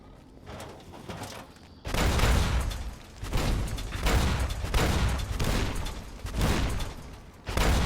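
Explosive rounds firing in Fallout: New Vegas (Lonesome Road), heavy booming blasts in a rapid fusillade of about six bursts after a quiet opening, loud and close with no talk.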